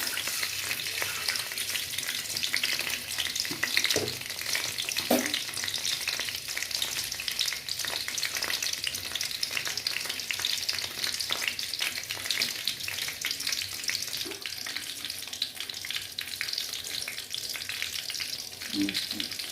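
Whole eggs sizzle and crackle steadily in hot oil, a constant frying hiss close up with occasional soft clinks and scrapes.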